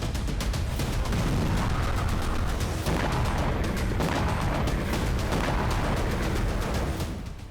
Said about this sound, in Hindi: दर्जनों धमाके